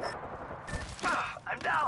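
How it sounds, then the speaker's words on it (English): Rapid bursts of gunfire from the Apex Legends video game, a short crackling volley mixed with game effects and voice lines over under two seconds. "I am taking fire."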